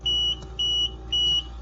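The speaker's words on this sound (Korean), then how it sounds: "킹크 또는 차단 경고음을 보여드리겠습니다" An Invacare oxygen concentrator sounds its tubing kink or blockage alarm: three evenly spaced, clear beeps over a low machine hum.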